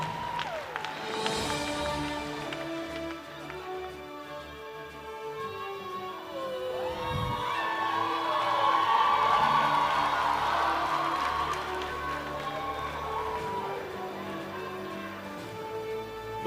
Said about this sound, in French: applaudissez bien fort pour lui